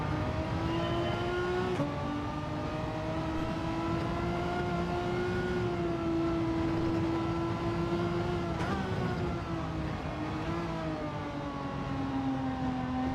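A Ghost car in a racing video game gives an electric-sounding whine that rises and falls in pitch as it speeds along, steady and continuous throughout with no speech over it.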